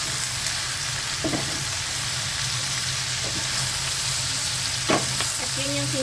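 Chicken gizzards frying in a pan, a continuous loud close sizzle with a few sharper clicks and stirring knocks, no voices.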